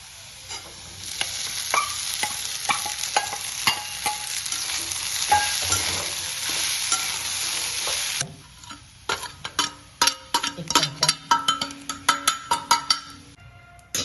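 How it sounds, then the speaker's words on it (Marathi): Soaked sabudana is stirred into a pan of fried chillies for sabudana khichdi, with continuous close sizzling and frying, then a run of sharp clinks and scrapes of a spoon against the pan. "आपली मिरची फ्राय झालेली आहे. त्यात घालूया आपण आता भिजलेला साबुदाणा."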